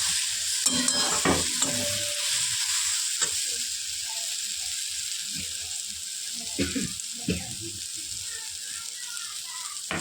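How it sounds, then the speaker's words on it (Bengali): Brinjal being stirred and fried in a pan gives a steady close sizzle under repeated scraping and clinking of a spatula against the pan, with a few brief louder knocks. "দিয়ে ভালো করে বেগুনটাকে আর একটু নাড়িয়ে চাড়িয়ে নিতে হবে।"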